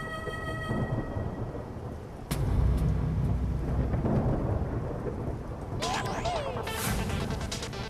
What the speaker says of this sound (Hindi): वाह, बाहर मस्त बारिश हो रही है।